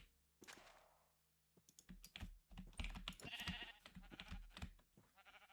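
Sheep bleating in a block-building video game, a few short bleats mixed with quick keyboard clicks and thumps, fairly faint and close.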